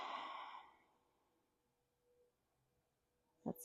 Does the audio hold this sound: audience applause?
no